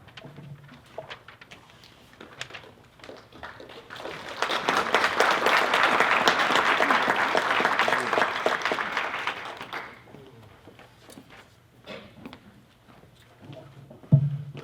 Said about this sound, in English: But appreciate the applause